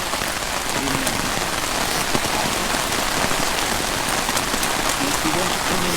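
Heavy rain pouring down outdoors at an interment of ashes ceremony, a dense, steady hiss of drops drumming on surfaces, loud and unbroken, with faint voices beneath.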